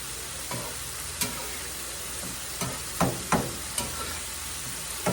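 Rice being stirred in melted butter with peppers and onions, a soft continuous sizzle broken by a series of scraping, tapping spoon strokes against the pan at irregular intervals.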